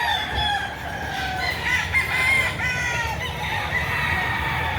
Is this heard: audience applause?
no